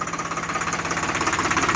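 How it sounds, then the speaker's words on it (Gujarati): A tractor works through a chickpea field, its engine running in a steady, close, loud rhythmic chug with a knocking pulse throughout, no talk over it. "વચ્ચે ટ્રેક્ટર ચાલે આવે"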